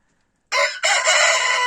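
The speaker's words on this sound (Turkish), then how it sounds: "yedek olan horozu da bunların başına koydum" A rooster crows loudly and close by, a single drawn-out call after a moment of silence, with no other sounds around it.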